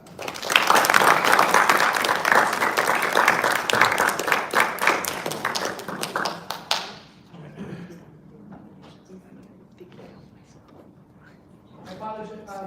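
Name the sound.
audience applause for the speaker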